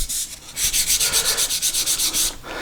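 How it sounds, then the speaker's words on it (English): Fine 220-grit sandpaper rubs back and forth on a wooden headless guitar neck during finishing prep, about a dozen quick, even rhythmic strokes, close and clear, with no talk. "I'm going to go ahead and hit the neck on this"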